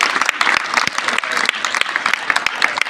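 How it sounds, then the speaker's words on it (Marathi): An audience at a Women's Day event applauds to welcome an official, a dense, close burst of many hands clapping that runs steadily throughout. "सर्वांनी साहेबांचं टाळ्या वाजून आपण सर्वांनी स्वागत करायचे"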